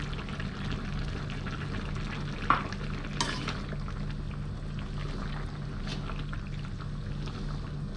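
Blood being poured into a simmering pot of chicken curry with coconut milk and pickled bamboo shoots, a steady bubbling sizzle with faint stirring and one sharp utensil clink partway through, no talking.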